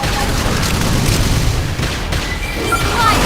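Heavy booming blasts from a ranged attack in the video game Xenoblade Chronicles X, a loud continuous rumbling explosion that fills the whole stretch and swells again near the end.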